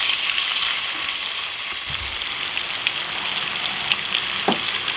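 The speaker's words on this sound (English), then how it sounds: "Get our shrimp in the pan. And throw on some of that taco seasoning." Shrimp with taco seasoning frying in a hot pan, a steady close sizzle with light crackling pops throughout and no talking.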